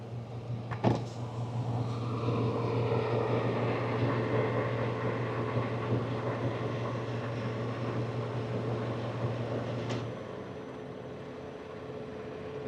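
Semi truck air compressor running at a truck stop, a steady close mechanical hum building pressure for about ten seconds before the governor cuts out and the drone drops away, with a sharp click near the start.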